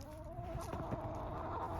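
Backyard hens cluck softly in short, scattered calls over a quiet outdoor background.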